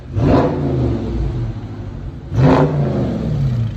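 Two loud engine revs from a 2020 Dodge Charger Scat Pack 6.4L HEMI V8 with dual exhaust, each a sharp burst of throttle settling into a deep, rumbling idle between them.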